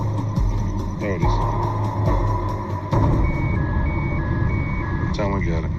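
Pinging beeps from a tracking device on a stolen car in St. Claude, New Orleans, a steady series of short, evenly spaced high tones sounding over truck engine rumble and nearby voices.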